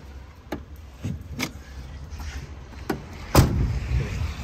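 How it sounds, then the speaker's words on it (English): The hood of a 2014 Volvo VNL670 truck being unlatched and opened, a few scattered clicks and clunks followed by one louder thud, against quiet outdoor background. "I'm going to get the hood open on this before we go any farther"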